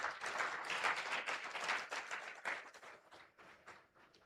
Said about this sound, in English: May we give a round of applause for Mr.